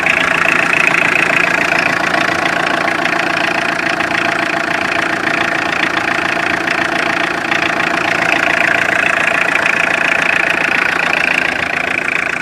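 Tata Indica car engine idling with the bonnet open and a power steering noise, a steady close rumble with a continuous whining, rattling layer over it, unbroken and with no talk.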